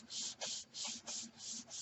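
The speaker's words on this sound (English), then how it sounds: "Then you start rubbing it gentle." Bakelite rubbed gently with a polishing product on a paper towel, a soft rhythmic swishing of about six back-and-forth strokes, faint and close with no talk.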